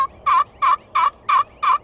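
Five evenly spaced, close yelps from a turkey friction pot call, worked back and forth with a striker to imitate a hen turkey, clear and alone with no talking.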